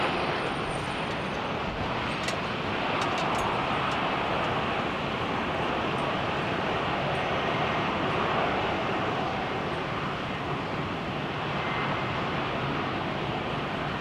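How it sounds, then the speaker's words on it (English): A British Airways A320 airliner departs on the southern runway at a windy Heathrow Airport, its engines a steady, broad distant roar blended with heavy wind rumble throughout, with no talk. "Aircraft already pushing back, lined up for the southern runway for departure."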